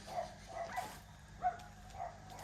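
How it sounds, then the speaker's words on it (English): Dogs bark in the distance on a rural garden property, several faint, scattered yips spread over a couple of seconds against quiet background hum. "Dogs are barking."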